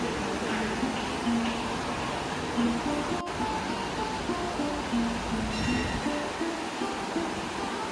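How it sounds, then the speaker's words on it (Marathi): Clear water of the Patalganga river flowing past the grounds of the Gagangiri Maharaj math in Khopoli, a steady broadband rush that holds at an even level for the whole stretch, with a faint tonal hum mixed in. "मठाच्या मधून वाहणारे पाताळगंगा नदीचे ते स्वच्छ पाणी आणि त्या पाण्याचा शांत असा आवाज येत होता"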